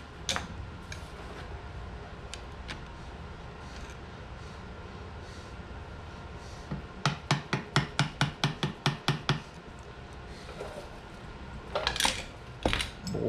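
Hammer taps seat parts while pinion depth is set with a depth tool on a differential: a few scattered light taps, then a quick run of about a dozen evenly spaced strikes, and a final short cluster, all close and crisp over steady background hum.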